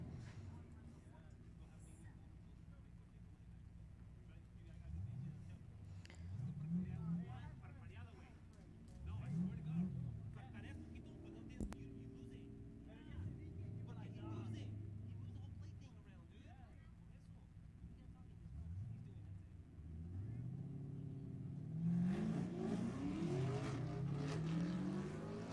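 Fast Ford drag racing cars, including a 1990 Mustang, launch and accelerate down the strip at a drag race in Stockton, California, giving repeated rising engine revs and shifts, mostly distant and faint under steady commentary.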